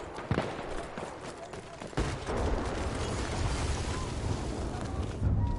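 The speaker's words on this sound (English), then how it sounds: "I hear so much gunfire." Continuous bursts of gunfire in Battlefield 1 on PS4 Pro rattle loudly and densely throughout, with sharp shots cutting through a rumbling, noisy background.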